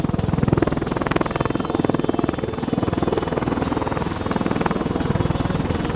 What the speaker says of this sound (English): MV-22 Osprey is a medium-lift assault support tilt-rotor aircraft